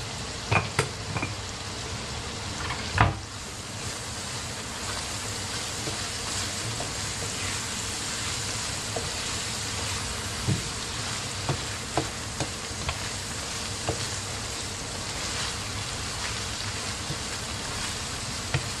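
Ground meat seasoned with paprika frying in a pan, a steady close sizzle with occasional stirring clicks and small pops throughout, with no talking.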